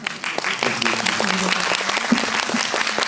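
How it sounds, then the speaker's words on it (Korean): Warm applause from a cinema audience after a post-screening talk with the director of Plan 75 at CGV Yongsan, close, crisp claps building into a steady round with a few louder individual claps and brief murmurs underneath. "오늘 말씀 나누신 감독님께 큰 박수 드리겠습니다."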